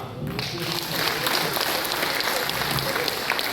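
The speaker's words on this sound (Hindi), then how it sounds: "इसमें ताली बजाने की भी कोई बात नहीं है" Audience clapping at a Hindi comedy poetry gathering (hasya kavi sammelan), a dense, steady wash of applause filling the whole stretch after a brief quieter start.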